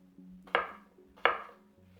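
Knife chopping unpeeled potatoes into bite-sized pieces on a board for potato soup, two crisp close thunks about 0.7 seconds apart, each trailing off quickly, with a faint low hum between and no talk.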